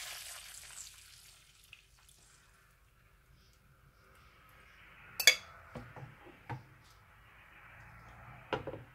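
Beaten eggs poured into a hot frying pan with a little oil, giving a steady soft sizzle that builds partway through, with a few sharp clinks of utensils against the pan.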